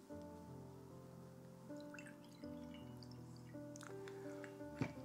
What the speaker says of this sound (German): Deshalb gieße ich mir jetzt erstmal eine Tasse ein.